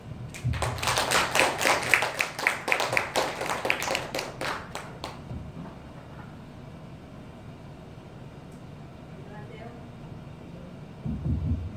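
An indoor audience claps to welcome a speaker at a Korean literary talk, a loud burst of many hands that fades out after about five seconds into quiet room tone.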